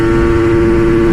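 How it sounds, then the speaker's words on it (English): A motorcycle engine held at high revs in first gear with the throttle whacked open and no clutch, a loud, steady, close-up buzz. "Give the throttle a good whack."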